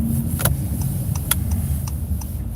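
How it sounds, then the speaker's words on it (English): A 2020 Honda Odyssey LX minivan drives along, a steady low engine and road rumble running throughout with a few faint ticks over it. "Right now, this vehicle I'm driving is a 2020 Honda Odyssey."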